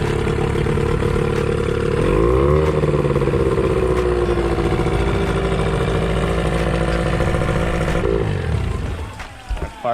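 A 2003 Nissan four-stroke outboard motor runs steadily at close range, its rumbling idle rising briefly as it is shifted through forward, neutral and reverse, then cutting off near the end.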